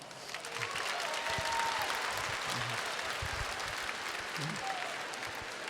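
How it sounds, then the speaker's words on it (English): Sustained applause from a youth workshop audience, a steady wash of many hands clapping at fairly even loudness throughout, with faint murmurs and a few voices underneath. "Give your youth ministers a round of applause."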